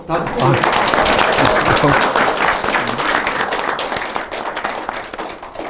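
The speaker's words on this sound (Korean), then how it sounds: "우리 애국 변호사, 도 변호사한테 박수 한번 더" A crowd in a conference hall applauds loudly and continuously, the clapping slowly fading toward the end.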